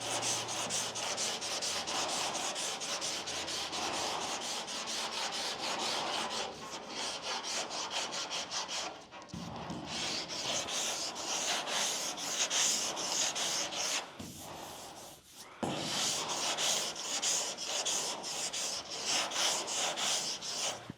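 Hand sanding of car body paint over a guide coat, a continuous close scratchy rubbing with rhythmic back-and-forth strokes, briefly pausing twice before resuming, no voices.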